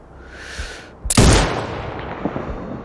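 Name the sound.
sniper rifle gunshot in a video game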